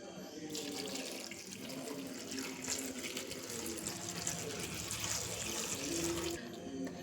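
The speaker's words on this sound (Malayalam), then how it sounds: "നമ്മൾ ഇനി ഒരു ഗ്ലാസ് വെള്ളം ഒഴിക്കാൻ പോവുകയാണ്." A glass of water poured over washed, chopped jackfruit, a steady splashing pour running continuously for several seconds at close range, quiet overall.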